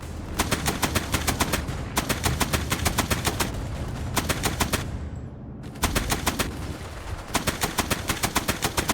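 Video game gunfire in Beach Invasion 1945 Pacific, a WWII FPS wargame: loud, rapid automatic bursts of machine-gun fire in several long strings separated by brief pauses.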